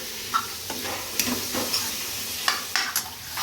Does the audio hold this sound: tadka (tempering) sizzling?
yes